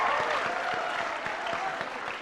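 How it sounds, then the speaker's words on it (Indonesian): Steady, dense applause from a large audience, continuous and fairly loud throughout with no breaks. "Kita berikan tepuk tangan yang paling meriah buat Pak Saiful."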